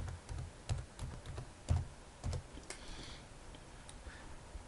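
Keys being typed on a computer keyboard, a quiet run of soft, irregular clicks and taps with a few louder strokes, close by with no talking.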